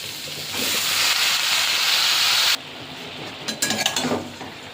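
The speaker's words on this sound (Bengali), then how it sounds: "শাকগুলো একটু নাড়াচাড়া করেই কিন্তু আমি অল্প জল দিয়ে দেবো" Mustard greens are stirred into a hot pan of fried potato and eggplant, a loud hissing sizzle that drops abruptly halfway, followed by scattered clinks and scrapes of a utensil against the pan.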